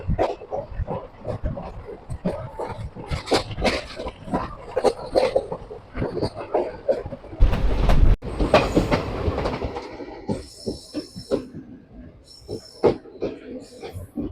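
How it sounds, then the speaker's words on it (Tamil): The Nagercoil–Coimbatore daily passenger express rumbles and clatters along the rails out of Madurai, the rhythmic clacking building as it picks up speed, with a dog barking and voices mixed in. "இது டெமோ ட்ரெயின் மாதிரி எடுத்த ஒரு 5 செகண்ட்ல சர்ரு டாப் ஸ்பீடுக்கு போறாரு"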